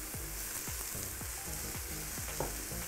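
Mushrooms fry and char in a hot pan with ginger for a Thai noodle soup, giving a steady close sizzle that is broken by regular scraping stirs roughly every half second.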